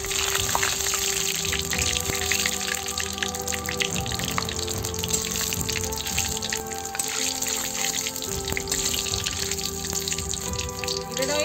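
Bay leaves and cumin seeds sizzle in hot mustard oil in a pan, a steady crackling hiss with small pops throughout, close and continuous.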